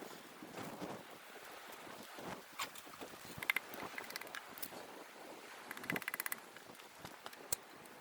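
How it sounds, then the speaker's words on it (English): Strong wind of around 50 mph gusting across an outdoor microphone, a steady broadband roar with rushing buffeting surges and scattered sharp clicks, no voices. "We got 50-mile-an-hour winds today"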